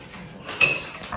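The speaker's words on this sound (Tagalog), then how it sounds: "Nagugas ang pinggan." A single sharp clink of plates knocking together during dishwashing, close and fairly loud, over a soft running background.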